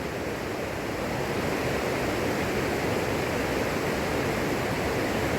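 River water rushing steadily beside a winter woodland walking track, a dense continuous broadband wash of flow without pause, close and fairly loud, with no voices.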